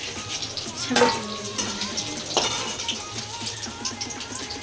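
Food fries in a wok with a busy, crackling sizzle, punctuated by a couple of clanking stirs against the pan, close up.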